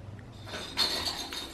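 A cat's jangly toy clinks and jingles faintly indoors with a few light metallic rattles.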